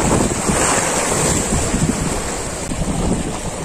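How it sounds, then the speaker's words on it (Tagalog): Strong, steady wind roars across a rocky seashore during shore casting, with surf washing constantly underneath and gusts buffeting the microphone throughout, loud and continuous with no talk. "Biglang lumakas ang hangin,"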